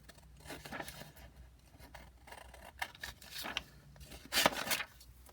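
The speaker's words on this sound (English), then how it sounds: "I'm going to cut around it, trim it out" Scissors trimming around a glued paper dress, giving soft intermittent snipping and rustling of paper, close and faint, in a quiet setting.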